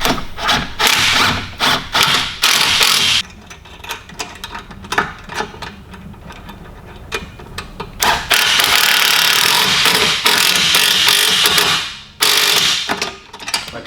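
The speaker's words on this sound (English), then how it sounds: "You literally just put the bolt on each side and tighten it up." Bolts on the seat mounts of an electric drift trike are tightened with a ratchet, giving loud bursts of rapid clicking that stop and start, broken by quieter pauses.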